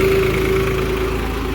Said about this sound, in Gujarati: કપાસમાં ટ્રેક્ટર દ્વારા ચારા તોડી રહ્યા છે